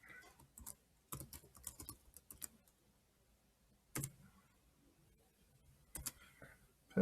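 Scattered bursts of keystrokes on a computer keyboard while editing a Google Docs document, with short flurries of clicks separated by quiet pauses, close and fairly clear, with no talking.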